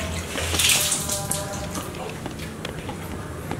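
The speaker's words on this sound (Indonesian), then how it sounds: "Mari kita cuci muka kita dulu dengan air sumur dan Niat Malaras" Cold well water is splashed onto a face at an old Malay palace, producing close, continuous splashing and pouring that fills the whole moment without pause.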